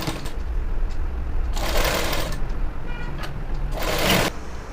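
Sewing machine stitching a pant seam with a half-inch allowance, running in two distinct bursts of about a second each, separated by quieter pauses with faint handling noise.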